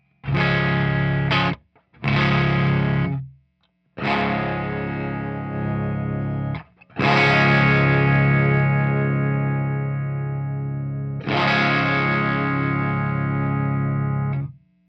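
Electric guitar through a REVV Dynamis D40 amplifier, a thick overdriven tone with long sustained chords and short choppy stabs separated by brief gaps, loud and close with no talking.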